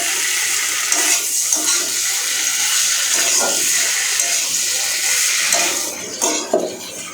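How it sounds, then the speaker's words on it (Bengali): Water is poured into a pan of Bengali shing fish curry, a loud steady rushing splash that tapers off near the end, followed by a few clinks of a utensil against the pan. "মেশানো হয়ে গেলে আমি পরিমাণ মতো দিয়ে দেব জল"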